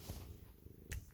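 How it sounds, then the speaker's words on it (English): A soft, low purr rumbles faintly and continuously, close by, with a brief rustle of movement near the end. "If you can hear her purring in the video."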